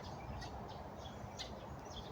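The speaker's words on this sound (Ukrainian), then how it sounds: "Пташки співають." Outdoors at a retreat in Odesa, small birds chirp and sing in short, high, faint calls scattered over a quiet background hiss, distant and unaccompanied by talk.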